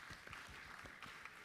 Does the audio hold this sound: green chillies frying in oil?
no